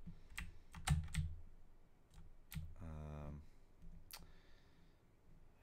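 Loud, close computer keyboard clicks during a Minecraft survival session, coming in quick bursts of taps with pauses, then a short rapid clatter of keys; soft whispering accompanies the typing.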